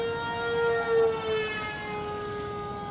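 A small electric motor on an RC plane at half throttle during its maiden flight gives a steady, thin whine that slowly slides downward in pitch as it passes at a distance.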